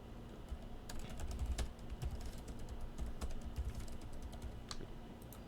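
Login credentials being typed on a computer keyboard while configuring a web service, with steady, fairly quiet key clicks in an irregular rhythm over a low background hum.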